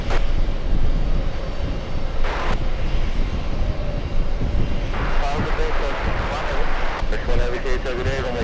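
An American Airlines Boeing 777 heavy jet sits on the runway at JFK, its steady broad engine roar filling the air continuously, with a rising hiss and whine in the last few seconds as the engines spool up.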